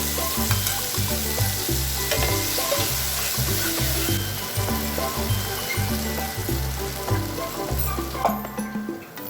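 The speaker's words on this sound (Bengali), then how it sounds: "এবার তেলের মধ্যে পেস্টটা দিই" Sesame paste for a pomfret curry hits hot oil in a pan with a loud, steady sizzle and frying crackle, close up, and a rhythmic scraping as it is stirred throughout.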